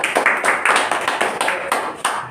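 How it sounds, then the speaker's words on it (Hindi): Classroom applause for a student's correct answer during a Class 10 coaching session, a steady burst of many hands clapping in quick rhythmic beats, close and fairly loud, with no talking. "जोरदार ताली बजाएंगे इनके लिए"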